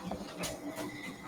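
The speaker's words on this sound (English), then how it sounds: "here comes the printer." An office printer runs in the background at a low level, a steady mechanical churn with a couple of brief louder surges, no talk over it.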